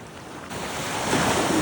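Sea waves wash over a shallow beach, a broad rushing surge that swells louder partway through, mixed with wind buffeting the microphone.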